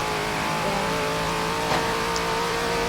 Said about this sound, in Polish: kolejne BMW to, to jest samochód do driftów